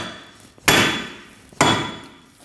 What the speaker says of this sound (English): Using a hammer, we're going to go around and we're going to tap our hub in multiple different spots